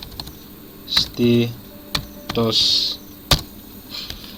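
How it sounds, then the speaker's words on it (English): Short bursts of keystrokes on a computer keyboard, close and crisp, arrive in a few irregular clusters, with a person talking in between. "So just type in git status."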